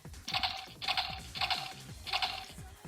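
A few quick plastic button clicks on a Kamen Rider Kabuto toy transformation belt in a steady rhythm, four short bursts of clacking, close and fairly quiet.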